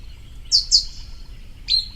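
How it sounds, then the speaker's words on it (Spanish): A few bright, short chirps from a blackbird, two in quick succession then one more, clear and fairly close against quiet background during a morning dawn chorus. "Se escuchan los mirlos."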